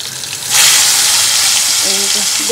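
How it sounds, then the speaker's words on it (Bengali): Eggplant slices drop into hot oil and set off a loud sizzle about half a second in. The sizzle keeps up steadily, with a faint tonal sound near the end. "বেগুন ভাজা হচ্ছে, এত সাবধানে সাবধানে দিচ্ছি।"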